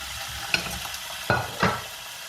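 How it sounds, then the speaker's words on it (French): Minced meat with spices dropped over onions in a hot pan, a low steady sizzle punctuated by three distinct scraping stirs, close and without talk. "Je viens ajouter au-dessus des oignons notre viande hachée"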